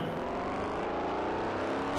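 A vehicle in the Forza Horizon racing game drives past with a continuous engine hum and whir, steady and fairly close, no talking.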